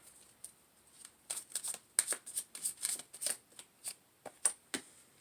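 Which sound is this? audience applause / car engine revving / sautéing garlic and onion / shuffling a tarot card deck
shuffling a tarot card deck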